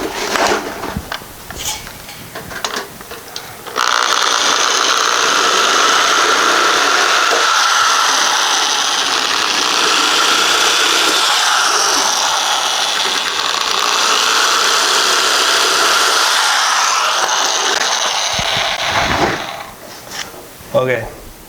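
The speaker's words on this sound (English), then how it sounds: "I'm gonna hit all these on the grinder" A grinder smooths metal edges in a workshop where a 1955 car is being worked on, a loud steady high-pitched whine running for about fifteen seconds, with clanks and handling noises before and after.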